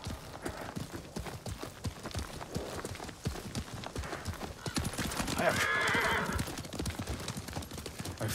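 Horse hooves clip-clop steadily through a Ghost of Tsushima game scene, a close rhythmic trot with an occasional whinny, running under continuous game sound and a voice speaking.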